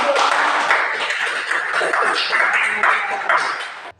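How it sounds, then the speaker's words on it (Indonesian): An audience claps its hands together in a dense, steady patter with a few louder rhythmic surges, then fades out at the end. "Kasih tepuk tangan."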